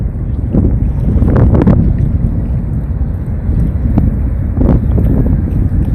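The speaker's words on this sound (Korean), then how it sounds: "바람 소리 많이 들리죠?" Heavy wind buffets the microphone beside the Han River under Mapo Bridge, Seoul, in loud, low rumbling gusts that swell and fade over several seconds.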